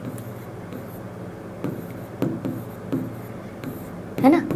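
A maths teacher writes out a solution to a fractions and decimals exercise, producing faint scratchy strokes and taps in an otherwise quiet room, with a few sharper marks standing out and no clear talk.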